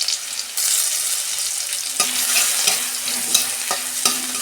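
Garlic drops into hot oil with dried red chilies in a pan, a loud continuous sizzle punctuated by several sharp spatula scrapes and stirring knocks.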